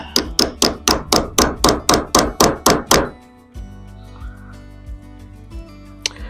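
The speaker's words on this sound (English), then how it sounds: "We're just going to tap this into place with a hammer and a punch." About a dozen sharp metallic hammer taps on a punch, installing a fiber optic sight on a Smith & Wesson M&P, in a steady rhythm, close and loud, then stopping, followed by a quiet low hum and a faint clink.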